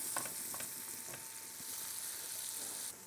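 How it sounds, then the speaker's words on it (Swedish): Onions fry in a pan for pork with onion sauce, giving a continuous bright sizzle with a few soft stirring scrapes near the start, close and steady, with no talking. "nu börjar löken stekas"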